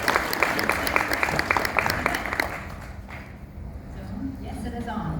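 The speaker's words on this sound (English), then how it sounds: "if we can also give a massive round of applause for Carolee" Audience applause at a law business conference welcoming the host of a tech panel, a dense round of clapping that tapers off after a few seconds into room murmur and a voice starting to speak.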